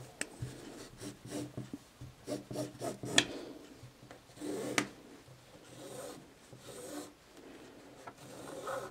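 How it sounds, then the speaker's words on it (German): A pen or marker traces an outline onto fabric for a child's sun-protection cover, producing soft, close scratchy rubbing strokes in short irregular bursts with brief pauses. "Das zeichnen wir dann ab."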